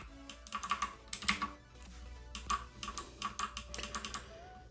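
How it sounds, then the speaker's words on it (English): Typing on bronze clicky mechanical keyboard switches, a light clicky type, in quick bursts of crisp, close taps separated by short pauses, with no talk. "Then you switch to the bronze, which is your lightest clicky, but it has a nicer sound than the blue."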